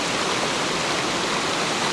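A waterfall pours in a loud, dense, unbroken roar of rushing water, close and constant with no talking over it.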